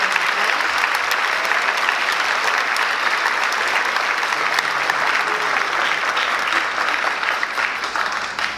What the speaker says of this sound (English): let's give everybody who supported these students a big round of applause.